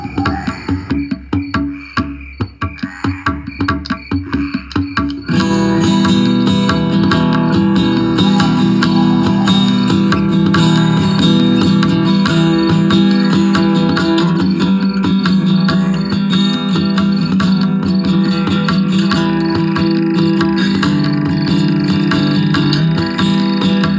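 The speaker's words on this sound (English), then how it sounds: "And of course, there were crickets." Night ambience in a garden: layered frog croaks, chirping crickets, nightjar and owl calls blend into a thick, continuous chorus that thickens after a sparser opening, steady and loud with no talking.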